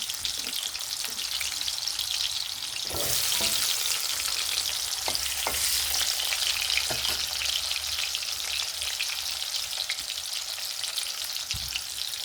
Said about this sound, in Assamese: মই পনীৰ ভজা তেলখিনিতে সৰু সৰুকৈ কাটি থোৱা আলুখিনি অলপ ফ্ৰাই কৰি ল'ম